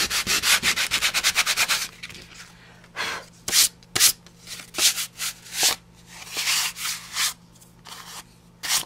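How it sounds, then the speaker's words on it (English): Sandpaper rubs over the raised ridges of a modeling-cream card, starting with fast rhythmic back-and-forth strokes and then slowing to separate, longer scratchy passes, close and clear with no voices. "pulled out a piece of trusty sandpaper, and if I sanded those high ridges that I had on my card"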